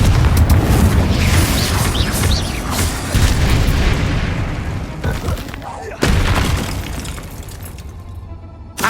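Fire spell explosions from the video game Hogwarts Legacy: a dense run of loud booming blasts and crackling bursts that roll into one another, with a sharp fresh hit partway through and another at the very end.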